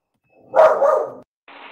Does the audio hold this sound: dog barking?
yes